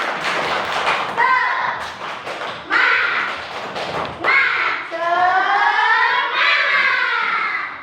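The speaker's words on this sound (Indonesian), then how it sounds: "Satu kali lagi tepuk semangat." A primary-school class of young children, fourth graders, performs the 'tepuk semangat' clapping chant, sharp clap bursts mixed with loud group voices chanting and shouting in rhythm, close and lively, with a teacher's voice leading.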